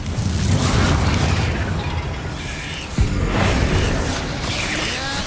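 A Confringo spell explosion in the fantasy video game Hogwarts Legacy sounds among ongoing combat noise, with a sharp impact thump at about three seconds that rises out of a dense, rumbling background.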